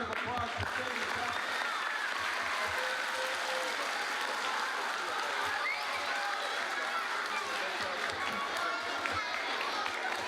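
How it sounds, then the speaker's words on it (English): A round of applause from a school audience at a wildlife conservation talk, steady dense clapping mixed with crowd murmur and voices, continuous and moderately loud throughout. "So give him a round of applause for saving chocolate."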